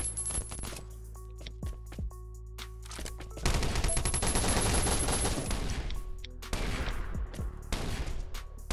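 Gunfire in the survival shooter Last Island Survival: bursts of rapid shots and single cracks, with a long dense volley in the middle and more bursts after, loud over a low game drone.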